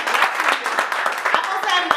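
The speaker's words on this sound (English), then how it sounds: "let's give her a round of applause" Studio audience applause, a dense patter of many hands clapping at close range, steady throughout with people talking over it.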